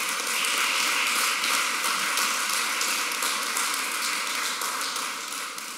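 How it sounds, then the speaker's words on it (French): An audience at a restitution ceremony in Benin applauds a museum figure, a dense, steady clapping that stays even throughout and fades slightly near the end, with a faint hum underneath. "je voudrais demander à tout le monde d'applaudir Pilvi."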